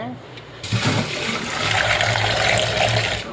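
Water runs and splashes as garlic and tomatoes are washed by hand, a continuous close rush like a tap filling a bowl, beginning abruptly and then holding steady.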